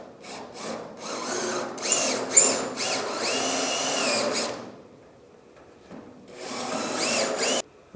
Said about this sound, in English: I'm gonna lean the cutter in this way so it cuts more on the sheet metal we're trying to get off.